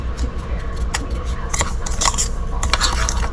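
A dried herb rub of rosemary, sage and thyme mixed in a bowl, giving a continuous soft scratching and clinking with sharper scrapes and taps scattered throughout, close and steady.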